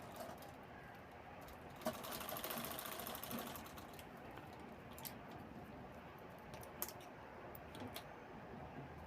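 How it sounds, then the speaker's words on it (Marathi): A sewing machine stitches the side seam of a homemade ladies' handbag, running as a fast, steady needle patter at low volume. Faint clicks and a couple of sharper knocks break in along the way. "दुसऱ्या बाजूची शिलाई तेवढी राहिलेली ती पण आपण शिवून घेतो आहे"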